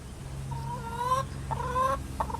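Backyard chickens cluck and call in two or three short, rising vocal bursts against a quiet outdoor background, near and moderately loud.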